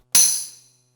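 A lone tambourine hit from an Alesis Sample Pad 4, crisp and bright, with a short touch of reverb at setting 2 letting the jingles linger briefly before fading.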